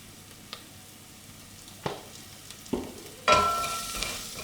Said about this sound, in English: If you do find your spices are really sticking to the bottom of the pan, have a really good scrape round and add a little bit of extra oil.